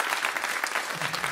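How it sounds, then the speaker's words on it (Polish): Audience applause at a jazz concert, a dense, steady patter of many hands clapping close and bright, filling the whole moment with no voices on top. "to są oklaski"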